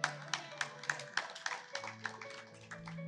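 A church congregation claps in a rhythmic series of sharp, evenly spaced claps, roughly three per second, moderately distant and fading slightly toward the end over faint background tones.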